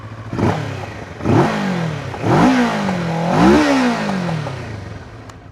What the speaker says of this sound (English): in terms of exhaust note, the Kawasaki over here is a parallel twin